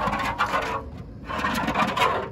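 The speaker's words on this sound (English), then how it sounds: "it's scraping some paint off, but it's not down to bare metal in very many spots" Paint being scraped off the steel body of a 1966 VW Beetle Convertible, likely after citrus stripper, with two close, steady rasping bursts separated by a short pause.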